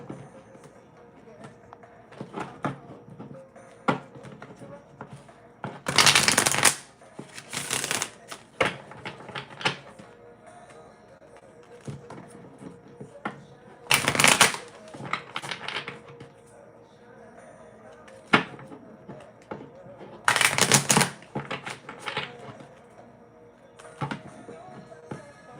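Tarot cards being shuffled by hand in a few sharp, loud riffling bursts, with quieter card handling and occasional talking between them.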